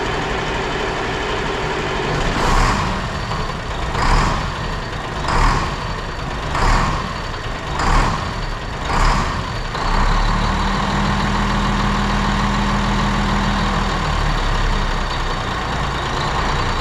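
Big Red, an oil-changed semi truck, idles loudly while reversing under a trailer, its steady diesel rumble broken by six evenly spaced backup beeps, then a low engine drone with a brief air hiss.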